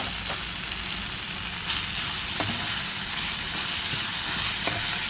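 Minced pork and red chillies are stir-fried for pad kra pao, a loud continuous sizzle with a few sharp scrapes of the spatula against the pan, and no voices.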